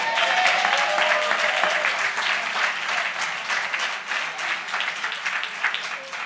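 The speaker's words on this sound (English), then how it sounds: "Give Reverend McHenry a hand." Sustained, steady applause from a rally audience honoring a reverend, dense clapping filling the room and gradually thinning toward the end.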